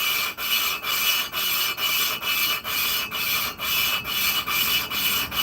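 Hand-lapping of engine valves: a steady, rhythmic gritty rasping, back-and-forth strokes repeating about twice a second, close and continuous.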